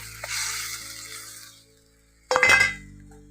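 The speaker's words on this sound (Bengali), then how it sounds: "এবার এর মধ্যে দিয়ে দিচ্ছি ভেজে রাখা ফলই মাছগুলো" Fried Foli fish go into a simmering curry in a pan. There is a soft bubbling sizzle, then a short burst of sharp clinks and scraping as a utensil stirs against the pot, with no talking.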